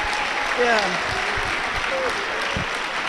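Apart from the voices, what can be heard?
audience applause at a ceremony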